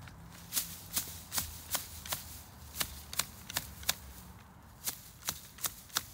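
Dull manual hand shears cutting back ornamental grass, giving about sixteen crisp snipping and rustling strokes at an uneven rhythm, close and clear with no talk.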